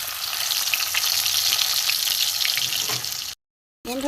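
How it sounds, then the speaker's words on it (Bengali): Two pieces of rohu fish frying in hot oil in a wok, a strong continuous crackling sizzle that cuts off abruptly near the end, followed by a brief voice. "উল্টে পাল্টে ভেজে নেব, উল্টে দেবো মাছ, একটু লাল করে ভেজে নেব"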